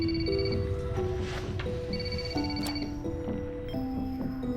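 A telephone ringing indoors, a steady electronic ringtone melody of repeated tones playing on and on at moderate loudness with faint background noise, no clear talk over it.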